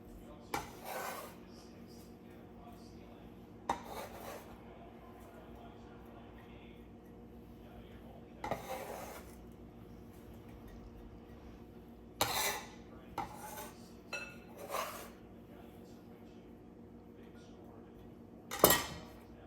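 Chopped fresh salsa ingredients, including jalapeno, are scraped and dropped into a bowl, giving scattered knocks and clatters of utensil on dish that come in separate short bursts over a low background hum.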